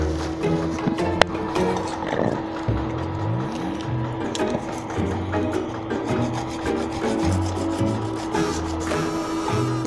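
A metal tuning clamp for a VHF antenna is filed by hand, giving repeated rasping strokes in a steady rhythm, close and fairly loud, with a faint tonal hum in the background.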